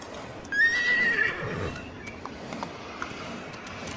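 A horse in a Roblox Wild West game gives a clear, shrill whinny, followed by soft, faint hoofbeats and small clicks in the background.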